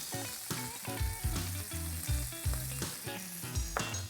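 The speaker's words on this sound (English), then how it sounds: "what we want is a nice sear on both sides" Meat sears in a hot pan with a steady, loud sizzle that runs the whole time, mixed with rhythmic music carrying a heavy bass pulse.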